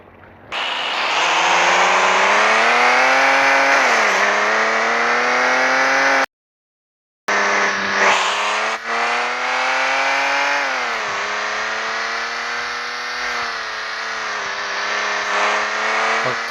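A car engine in a driving video game revs hard, loud and alone, its pitch climbing and dipping through repeated throttle sweeps, broken by one brief cut to silence before the revving resumes.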